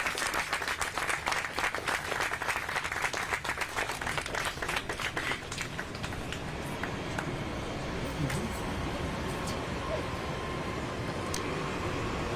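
An audience applauds at an event marking the 35th anniversary of the Americans with Disabilities Act, a dense, sustained roll of many hands clapping that carries on steadily and then thins slightly toward the end.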